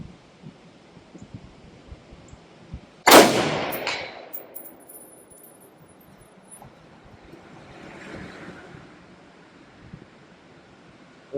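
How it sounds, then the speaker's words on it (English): A single sharp rifle shot from an Aero Precision M5 .308 AR10 at an outdoor range, loud and abrupt, with a short decaying echo, surrounded by faint wind and low background noise. "Those are 2 shots stacked at 200 yards"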